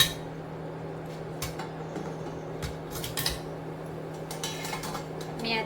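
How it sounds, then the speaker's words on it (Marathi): A metal lid clinks onto a pot of cooking sabudana, giving a few light, sharp clatters over a steady low hum. "त्याच्यावरती झाकण ठेवते"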